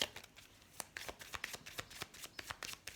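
Playing cards are riffled and shuffled by hand during a card reading, a quick run of close, crisp flicks and snaps in an uneven rhythm, with no voice.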